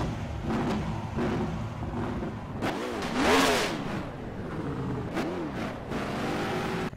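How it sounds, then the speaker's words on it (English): Race car engines rev in the video game NASCAR Racing 2003, a dense, continuous engine drone with a loud rising-and-falling rev swell in the middle and another shorter surge after it. "Drivers, start your engines!"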